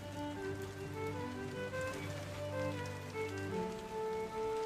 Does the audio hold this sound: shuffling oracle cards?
no